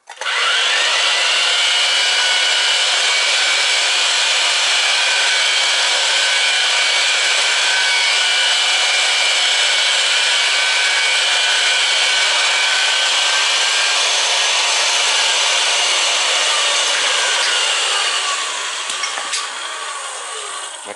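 A power saw cuts an oil tank fill pipe to length, a loud, sustained high whine and grinding rasp running steadily for about eighteen seconds before easing off.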